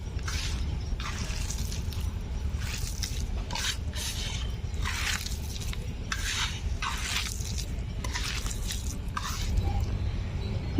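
Onion, gram flour and rice flour are mixed together by hand without water for onion fritters, giving repeated close, soft squishing and rubbing strokes in a steady rhythm, with no talk.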